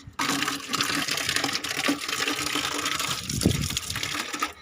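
Water gushes and splashes steadily while cleaning a betta fish tank, a loud continuous pour with a brief heavier splash near the end.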